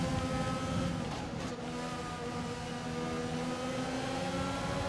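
F1 car engine in the F1 2020 racing game during an overtake on a Ferrari, a loud, steady high-revving drone with a brief dip in pitch as another car passes close by.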